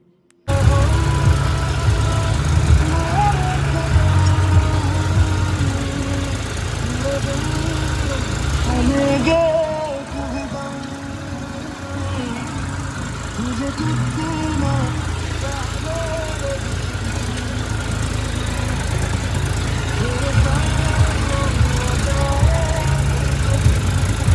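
A tractor engine runs steadily throughout, a loud chugging idle-like drone with a slight dip partway through, while a person talks over it.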